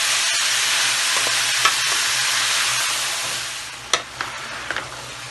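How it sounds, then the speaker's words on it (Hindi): Peas, potatoes and mixed vegetables sauté in a pan with a steady broad sizzle and a few sharp clinks of stirring near the end, heard alone. "मटर भी डाल देंगे और इसको थोड़ा सा भूनेंगे"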